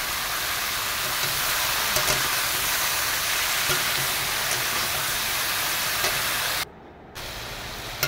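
Sliced snake gourd cooks in oil in a wok with a steady, dense hiss of sizzling that holds constant and fairly loud. The sound is broken by one brief drop in level before it resumes.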